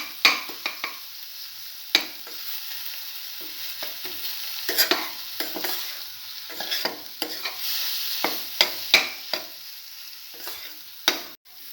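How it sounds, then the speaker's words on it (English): Cinnamon scrambled egg and tomato stir fry is sautéed in a pan with a steady sizzle, broken by repeated sharp scrapes and clinks of a spatula or spoon against the pan, close and with no one talking. "And keep on sauteing for 3 to 4 minutes"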